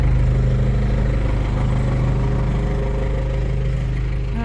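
A Gradall excavator engine idles in freezing weather with a steady, loud, close-up rumble and a faint mechanical clatter through it, holding even from start to finish.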